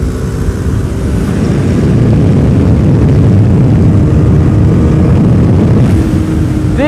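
A KTM RC 390 small-displacement sport bike is ridden, its engine and wind noise forming a loud, continuous, steady roar close by, with no talking over it.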